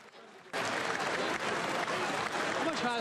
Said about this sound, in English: That's all there's doing right now is just claps and whistles.